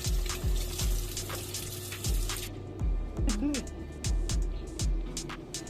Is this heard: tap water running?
yes